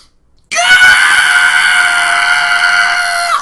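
A voice imitates a girl screaming at the top of her lungs, one loud, sustained, high-pitched shriek held for about three seconds after a brief silence.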